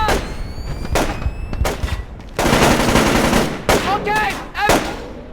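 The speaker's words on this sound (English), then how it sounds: "We've got incoming shots!" Incoming gunfire in the stealth game Splinter Cell Chaos Theory comes as repeated loud bursts of rapid automatic fire, separated by short gaps, with shouted voices mixed between the volleys.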